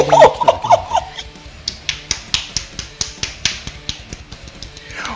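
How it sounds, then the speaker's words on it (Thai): A short voice opens, then a single person's hand claps ring out in a steady run of about a dozen sharp, evenly spaced claps, fairly close and clear. "ปรบมือครับผ ม"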